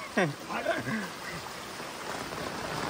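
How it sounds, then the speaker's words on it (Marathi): A flooded village stream rushing steadily in the background as a continuous broadband wash of water, with a person talking over it at first before the flow carries on alone. "आमच्या नाल्याला पूर बघा केवढा आलाय."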